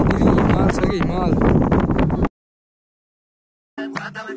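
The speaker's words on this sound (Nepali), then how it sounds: "हावा यस्तो चलिरहेछ." Strong wind blows at Suryagadhi, a hilltop viewpoint, as loud buffeting gusts with voices talking over it, then the sound cuts out to silence for about a second and a half before returning briefly.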